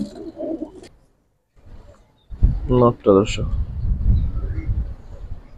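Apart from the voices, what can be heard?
pigeons cooing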